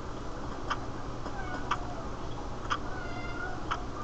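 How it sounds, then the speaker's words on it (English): A house cat meows several times at a regular pace, each call short and clear at moderate distance over a low background hum, with no talking. "Sorry, that's my cat."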